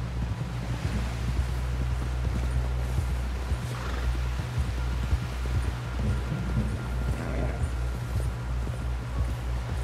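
Horse hooves clip-clop in a steady, fairly close rhythm throughout in Red Dead Redemption 2, over a low constant rumble and wind-like noise, with no voices.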